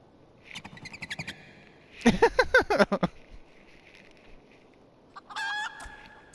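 A chicken character in Final Fantasy XIV gives a few short bursts of clucking, followed by a louder burst of clucks and squawks. A later shrill, tonal call follows amid faint game sounds.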